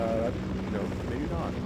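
A helicopter drones loudly and continuously in the Half-Life VR game, a low rumbling roar with talk running over it.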